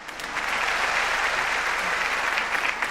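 Sustained applause from a crowd, a dense steady clatter of many hands clapping that rises quickly and holds for several seconds.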